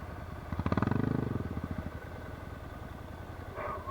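An off-road dirt bike revs hard as its front wheel lifts, the engine rising to a brief loud pulsing roar, then dropping to a lower rumble with chassis clatter.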